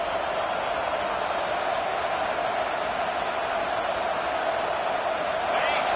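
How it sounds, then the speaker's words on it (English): Crowd roaring steadily at an Auburn college football game, a dense continuous wash of cheering stadium noise that holds at a constant level throughout, with no clear individual voices standing out. "The roar of the crowd trying to fuel this defense to keep them pinned in their own end."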